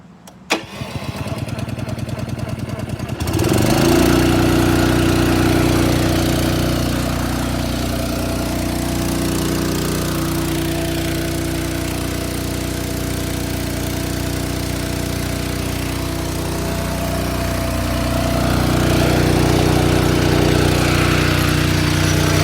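A gas engine driving the pump on a pressure washer trailer starts up and settles into a steady, loud, close running drone that holds for about twenty seconds with no talk.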